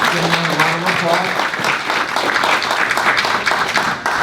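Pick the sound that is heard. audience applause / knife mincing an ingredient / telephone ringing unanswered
audience applause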